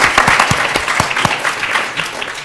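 A creative-industry audience gives brief, lively applause for an introduced guest, with a few sharp, close claps standing out against the busy crowd clapping.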